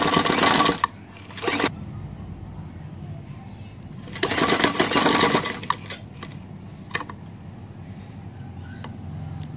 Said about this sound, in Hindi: अब हम यहाँ से सिलाई लगानी शुरू करेंगे।